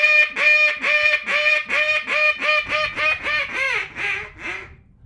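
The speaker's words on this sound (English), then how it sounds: "here's a little soundbite of what a hail call is" A duck call blown as a hail call gives a run of about a dozen loud, rhythmic quacks close by, each note slightly lower and fainter as the sequence trails off.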